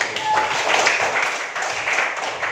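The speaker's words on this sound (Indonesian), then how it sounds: "Nah, mari kita berikan tepuk tangan yang sangat." Classroom applause, with a group of students clapping their hands together in a dense, steady patter at moderate volume, a voice faintly audible underneath.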